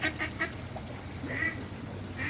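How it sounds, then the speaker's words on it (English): Ducks quack in short nasal bursts, several calls in quick succession followed by a few more spaced out, moderately near over soft outdoor background. "that duck is being mean."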